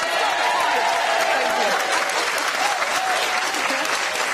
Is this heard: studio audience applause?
yes